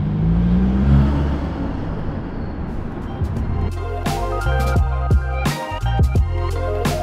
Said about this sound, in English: to fully capture how awesome this Tomei titanium exhaust sounds on the car